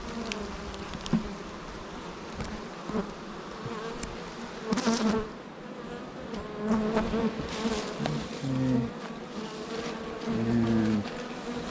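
A dense, continuous drone of honey bees buzzing around frames pulled from a hive. Individual bees pass close with rising and falling whines, and there are occasional soft handling knocks under the swarm.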